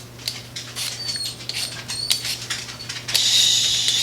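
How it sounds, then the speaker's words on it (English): A pet dog named Sadie whines in a home kitchen while potatoes are being peeled, giving thin, high-pitched squeaky whimpers that come in short, repeated bursts over a steady background hum. "If you hear my dog whining"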